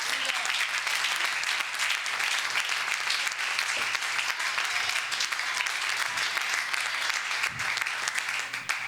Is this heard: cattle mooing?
no